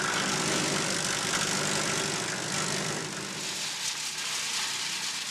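A Globe Organic shredder-chipper engine runs steadily and loudly throughout, a continuous broadband mechanical roar with no pauses and no voices.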